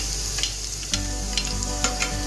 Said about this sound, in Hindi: अभी मेरा बीन्स जो है थोड़ा सा फ्राई हो चुका है। इस टाइम पे मैं कैप्सिकम जो लिया था मैंने वो डाल